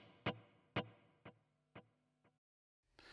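Electric guitar played through a stereo effects pedal with its left and right outputs summed, five plucked notes decaying with effected ringing tails, then a short silence and a burst of noise at the end.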